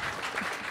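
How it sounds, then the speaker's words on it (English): A brief wash of audience applause at an open government conference, steady and fairly soft, with no voices over it. "Yeah, you can clap."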